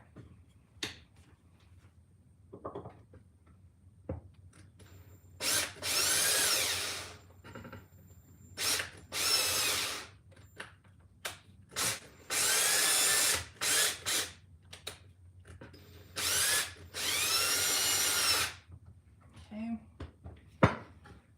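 A power drill drives screws into pine wood in repeated whirring bursts of a second or two, with short pauses between them, clicks and handling knocks, and a person speaking softly in the gaps.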